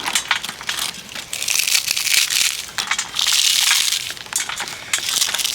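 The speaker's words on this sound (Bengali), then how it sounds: "প্রত্যেকটা পাঁপড় কিন্তু খুবই সুন্দর হয়েছে, ভাজার পর একদমই হালকা হয়ে গেছে। তো ভেঙে দেখাচ্ছি দেখুন" Crisp fried sago papads being snapped and crushed by hand, loud close crackling bursts in several rapid rounds, dry and brittle with no talk.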